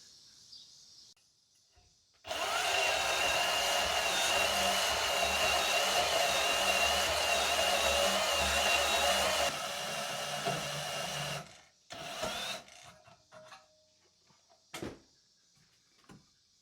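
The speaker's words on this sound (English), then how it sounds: "I'm going to give it the old choppy here with the bandsaw." A bandsaw cuts through a car exhaust pipe, a loud steady whine and grind running for about nine seconds, then stopping, followed by a few short knocks and clatters.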